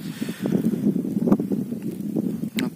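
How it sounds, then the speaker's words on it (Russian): Wind rises over a frozen lake during snowfall while ice fishing, a loud, steady low buffeting roar with rhythmic thumps and gusts close to the microphone throughout. "Снег пошел, ветер поднялся."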